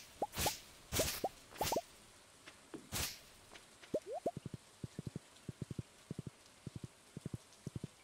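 Rain in the Stardew Valley video game: a series of short, bright droplet plops, a few louder splashes at first and then a steady run of light, evenly spaced drips, close and fairly faint.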